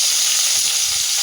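Mustard seeds and curry leaves frying in hot oil for a mutton fry, a loud, close, continuous sizzle and crackle.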